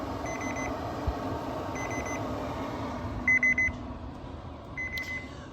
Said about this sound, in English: the internal meat temperature alarm has just gone off at 130 degrees